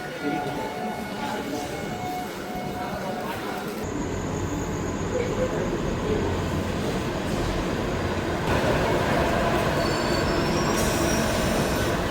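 A suburban local train near Vasai rumbles steadily along the tracks, wheels squealing and rattling loudly throughout, with occasional voices under the din.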